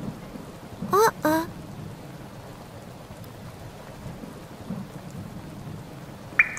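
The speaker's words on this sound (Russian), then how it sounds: "Капли падают Лёве на носик" Cartoon rain falls steadily with soft rumbles of thunder, while a short playful cartoon voice squeal rises over the storm near the start.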